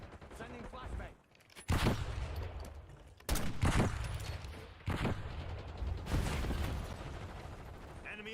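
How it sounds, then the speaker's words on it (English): Video game battle with constant explosions and gunfire: loud, dense bursts of shots and blasts, with sharp heavy impacts recurring every second or two, sometimes near and booming, over a continuous roar of combat. "Explosions keep shaking my gun, making me miss. It's just constant explosions."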